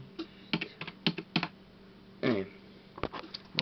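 Someone types on a computer keyboard, entering an IP address number by number. The keystrokes come as short clusters with pauses between them, close and fairly quiet, with one longer rattling burst in the middle.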